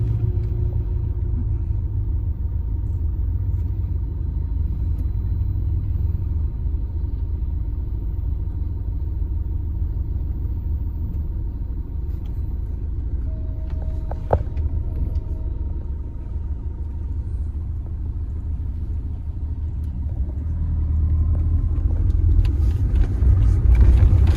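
Steady low road rumble of a car or motor vehicle on a roadway, continuous for the whole stretch and growing slightly louder toward the end, with a brief faint click midway and no talking.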